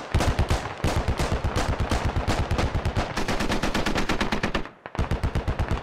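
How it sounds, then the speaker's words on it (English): Rapid machine gun fire in the Squad military shooter, sustained loud bursts of tightly spaced shots across an airfield tree line, with a brief pause near the end before firing resumes. "They're shooting through the tree line across the airfield"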